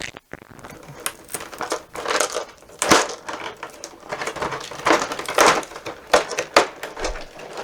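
Tape peeled off the packaging of a Project: Elite miniatures box, heard as sharp crackly rips and crinkles in irregular bursts, close and fairly loud, with no talking.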